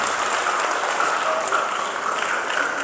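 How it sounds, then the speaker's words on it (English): Clapping from a school audience fills the room, a dense continuous round of applause that holds at an even level for a few seconds. "Give her a big round of applause."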